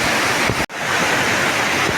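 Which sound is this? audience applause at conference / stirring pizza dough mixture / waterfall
waterfall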